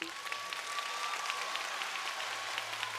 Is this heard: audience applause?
yes